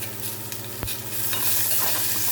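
Chopped pumpkin sautéing in a hot pan, a steady close sizzle with a sharp spoon knock early on and the frying hiss swelling louder toward the end.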